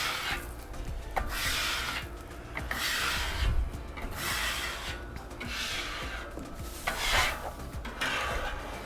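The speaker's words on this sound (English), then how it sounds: "I want to scrape this area" A metal scraper rasps across a flat-top griddle coated in bacon grease, close and loud in repeated long strokes with short pauses between them.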